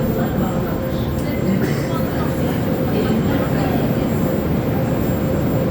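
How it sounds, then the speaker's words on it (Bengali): A Baku metro train at Nizami station, heard as a loud, steady low rumble of rolling carriages that fills the whole stretch, with faint higher whine and clatter on top. "ট্রেন এখন চলে যাবে"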